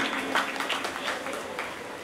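Audience applause at a Durga Puja Nabami cultural event, clapping for the performers of a band. A steady, dense wash of many hands clapping continuously throughout, moderately loud, with no speech over it.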